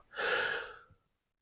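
One deep breath drawn in close to the microphone, a smooth airy inhale lasting just under a second before falling silent.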